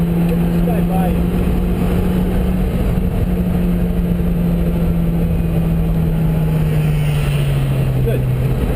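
A boat engine drones steadily and loudly at close range with a constant low hum and rushing wind and water noise, its pitch sinking slightly toward the end.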